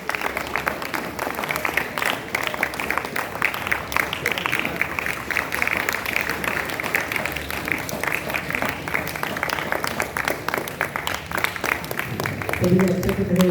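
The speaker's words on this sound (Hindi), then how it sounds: "आप जोरदार तालियां तो बजा सकते हैं।" Audience applause at a Jain religious seminar in a hall in Belgaum, a steady dense wash of clapping held for many seconds at moderate loudness, with a few tonal voices or notes surfacing near the end.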